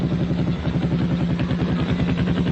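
Several military dispatch rider motorcycles circle a barrack square, their engines producing a steady, loud, pulsing rumble that stays close throughout with no talk.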